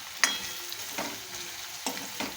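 Garlic chutney sautéing in hot oil for a Khandeshi-style potato curry, a steady close sizzle broken by several sharp stirring scrapes, with no talking.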